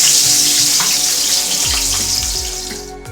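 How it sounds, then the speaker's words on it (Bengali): Fish sizzling and crackling steadily in very hot oil in a wok, a loud, close broadband frying hiss with no voices over it, a few low clanks or pops near the end. "এখানে কিন্তু আমি দুটো দুটো করে মাছ ভাজবো।"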